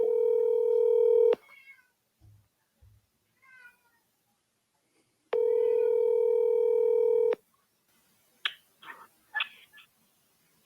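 A voicemail recording tone sounds over a phone line: a steady electronic beep lasting about a second, then a longer identical beep a few seconds later, with faint clicks and line noise in the gaps and after.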